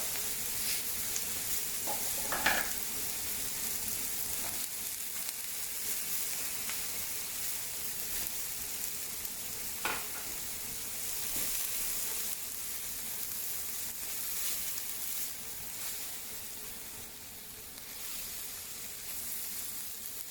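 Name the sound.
peas added to olive oil sizzling in a paella pan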